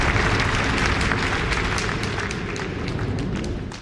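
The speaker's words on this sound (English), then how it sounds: "round of applause." A studio audience at a live evening show bursts into a dense, steady roar of applause, loud and close, holding level throughout before easing slightly at the end.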